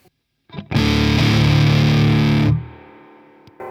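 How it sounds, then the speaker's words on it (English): Thick, saturated fuzz pedal tone from a Hartwood Deytona II electric guitar, a single loud sustained chord ringing for about two seconds before being cut off, leaving a short decaying tail, alone with no talk. "That is one of the greatest fuzz sounds I've ever heard."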